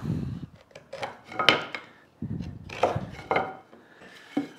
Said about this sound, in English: I'm just going to scribe around my shoulder lines for my tenons on all my pieces